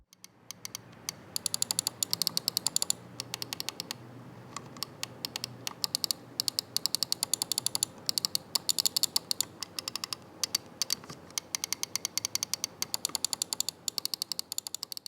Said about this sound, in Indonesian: ada contoh suara feedback dari klik mouse NYK Nemesis S80 Lite Blackmoon Gaming Mouse